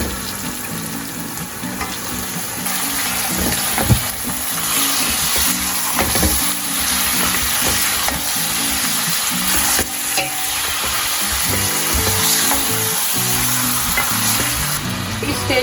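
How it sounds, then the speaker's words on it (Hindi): Mutton leg pieces fry loudly with softened onions in a pot for Afghani Kabuli pulao, a continuous close sizzle and stirring scrape over faint steady background tones. "ये देखिए प्याज हमारे थोड़े से सॉफ्ट हो गए हैं और अब हम इसमें गोश्त डालेंगे।"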